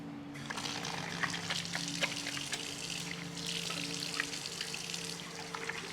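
Tap water runs steadily into a sink for hand washing, a continuous close trickle and splash lasting throughout, with a faint low hum underneath and no talking.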